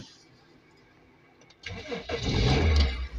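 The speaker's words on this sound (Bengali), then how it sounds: "তো ভিউয়ার্স গাড়িটা আমরা একটু আপনাদেরকে স্টার্ট করে দেখাই।" A Toyota car engine cranks after a quiet pause, catches and settles into a loud, steady idle, heard close up.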